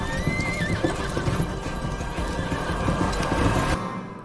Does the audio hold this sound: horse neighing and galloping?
yes